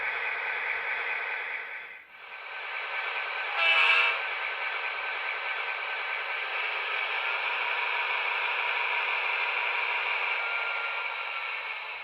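A model train diesel locomotive sound decoder plays a steady, continuous engine drone, with a brief brighter burst early on, heard close with no talking.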